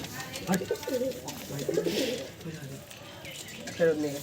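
Several Andhra, tiplar and madrasi pigeons coo in soft, throaty bursts close by in a loft, with a person talking quietly at times in the background.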